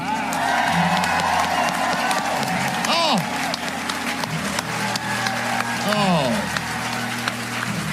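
Live studio audience at an Edinburgh Fringe radio show bursts into sustained, loud applause mixed with cheering and whoops, a dense continuous roar of clapping lasting throughout with voices calling out over it.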